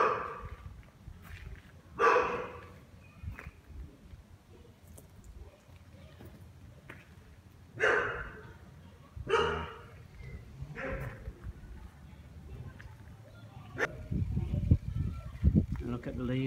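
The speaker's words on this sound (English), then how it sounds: "As you can hear, the dogs are not too happy that I'm standing here." Several dogs bark in short, separate bursts at a moderate distance, with quieter stretches between them, while a person talks over the scene.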